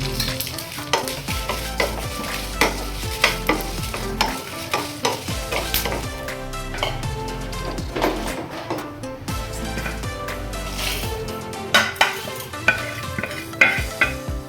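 Byadagi and Guntur dry red chillies frying in a little oil, with loud repeated scraping and clattering of a spatula stirring over a steady sizzle.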